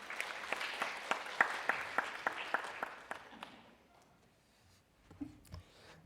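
An audience claps at the opening ceremony of a children's and youth council, with steady applause and a few sharp individual claps that die away into quiet, then brief scattered sounds.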